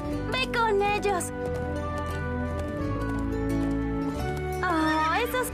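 Cartoon horses neigh in rising, warbling whinnies near the start and again at the end, over a steady backing of music and voices, with hooves implied rather than clearly heard.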